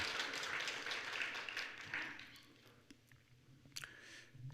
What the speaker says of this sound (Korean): 여러분 한번 환영해서 한번 박수할까요?